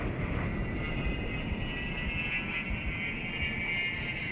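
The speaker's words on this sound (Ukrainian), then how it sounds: "А10 Thunderbolt." A-10 Thunderbolt ground-attack jet in the war game Combat Mission, a steady, loud engine roar sustained throughout with no talk over it.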